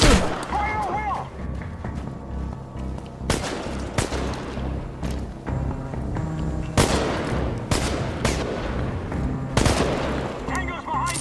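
Gunfire in the video game Chernobylite: repeated sharp shots and bursts at around 3, 4, 7, 8, 9.5 and 10 seconds, loud and close over a dense bed of game music and effects, with voices calling out between the shots.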